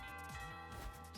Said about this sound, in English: Oh, doorbell's going again.